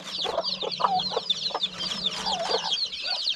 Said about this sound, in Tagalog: Yung mga alaga nating manok mga kaprobinsya, oh, may mga sisiyo naman tayo dito.